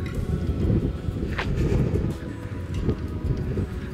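Gusty outdoor wind buffeting the microphone, a low rumbling roar that swells and eases over a few seconds, with no talking.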